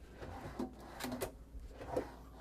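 Storage drawers in the sleeper of a Peterbilt 589 truck make a few soft, quiet knocks and slides spread over a couple of seconds in a hushed interior.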